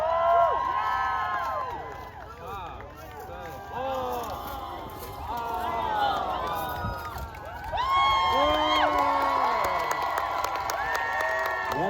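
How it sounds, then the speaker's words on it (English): A crowd at a medieval faire in Toronto cheers and shouts through a sword contest between child knights, a dense wash of excited voices and children's yells rising and falling over about twelve seconds, growing louder near the end. "the crowd cheered for you anyway"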